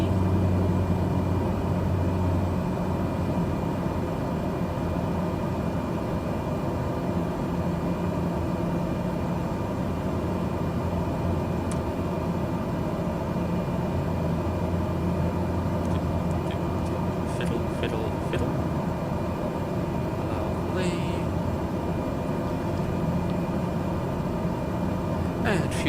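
A simulated turboprop aircraft engine at cruise power drones steadily for the whole stretch, with a few faint clicks and ticks of cockpit controls over the constant hum.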